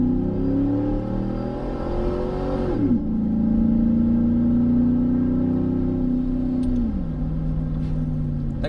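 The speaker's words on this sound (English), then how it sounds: "I think my power steering pump's a little low on fluid, starting to whine a bit like a Cobra." A running car engine with a power steering pump low on fluid: a steady engine rumble carries a clear tonal whine that slides down in pitch twice as the revs shift, loud and close, with no voices.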